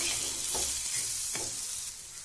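Steady sizzling of masala frying in a wok, with two spatula scrapes as it's stirred, close up and without speech.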